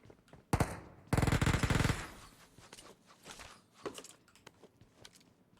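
Gunfire in the PUBG Mobile game: a short burst, then a longer rapid automatic burst of loud shots, followed by quieter scattered footsteps and thuds.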